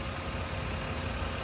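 A 1998 BMW 323is E36 engine idles steadily in a dusty engine bay, a smooth, even low rumble held close and constant throughout with no voices.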